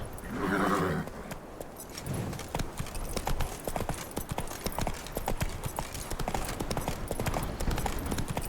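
Galloping horse hooves in The Witcher 3 thud in a fast, steady clip-clop rhythm, with a whinny near the start, loud and close.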